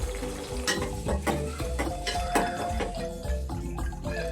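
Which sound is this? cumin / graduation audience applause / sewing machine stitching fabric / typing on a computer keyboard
cumin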